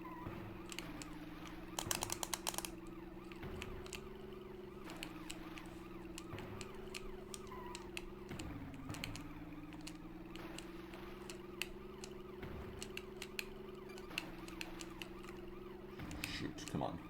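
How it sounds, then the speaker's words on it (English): Car horn honking in the Game Boy Advance game Matchbox Missions: Air, Land and Sea, a steady, buzzy electronic horn tone held over long stretches and broken by short clicks and game sounds. "I'm honking my horn."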